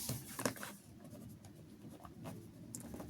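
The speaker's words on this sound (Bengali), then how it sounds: "তা আমরা লিখব যে এখানে" A pen scratches steadily across paper while a maths problem is worked out, with soft continuous strokes and brief pauses between them, close and quiet with no talk.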